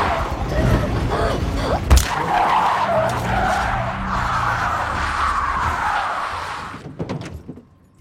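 Car in a film scene swerving and braking hard: a loud, sustained tire skid and squeal running several seconds over engine rumble, with a sharp thump near the start and a few brief knocks as it dies away into quiet.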